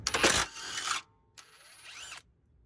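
Wrench loosening a bolt on the front sway bar of a 2005 Subaru Forester XT: a sharp metallic crack and ratcheting burst, then a shorter scraping turn, close and fairly loud.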